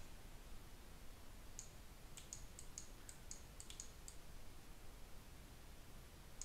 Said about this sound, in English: I'll make my brush a little bit bigger by using the brackets to the right of the letter P on the keyboard